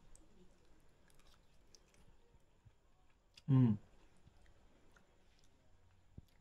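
A single short, close chewing sound from someone eating instant-style noodles, with a faint murmur around it and no speech.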